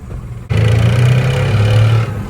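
A first-generation Cummins diesel truck engine, long abandoned and recently revived, starts up abruptly and runs with a loud, steady, low rumble close by, then eases slightly near the end.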